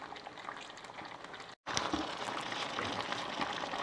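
A pot of fish curry with zucchini sauce bubbles at a steady simmer close by, with a brief cut-out before the boiling resumes.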